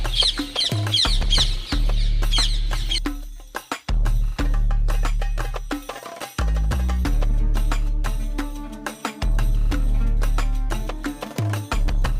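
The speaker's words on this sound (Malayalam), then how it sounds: "കേൾക്കാണല്ലേ കിളികളുടെ ഒച്ചൊക്കെ" Chickens cluck loudly and repeatedly nearby at the Ibrahim Roza monument in Vijayapura, with sharp higher calls over a low steady hum, the clucking nearly continuous throughout.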